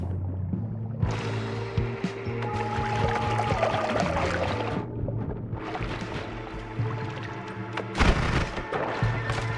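Water sloshes and pours continuously in the pixel-physics video game Noita, with splashing surges and low tonal game sounds underneath. The sound is fairly loud and steady throughout, with no voice.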